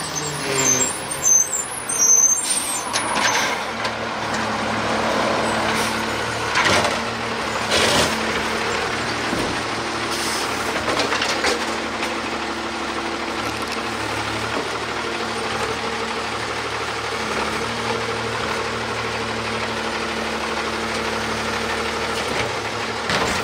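A green toy garbage truck's engine rumbles and whirs steadily for a long stretch, with occasional clicks and hisses layered over the continuous mechanical drone.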